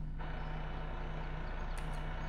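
Farming Simulator 15 truck engine hums as a faint, steady low drone with a constant tone, with a short higher burst near the end.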